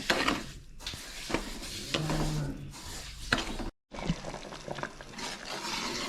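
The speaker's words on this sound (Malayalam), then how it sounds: "നന്നായിട്ടൊന്ന് ഇളക്കി വെക്കാം." Stirring sugar into pineapple jam in a pan, a scraping, clattering spoon against the pan over soft bubbling, with irregular knocks and a brief pause partway through.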